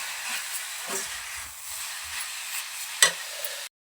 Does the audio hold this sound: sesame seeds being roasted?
yes